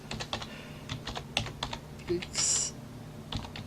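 Quick, steady typing on a computer keyboard in Ubuntu GNOME 17.04, close and clear with rapid clicking keystrokes, then a short pause before more typing resumes.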